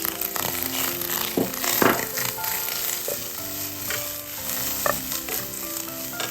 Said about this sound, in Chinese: 倒入萝卜丁炒香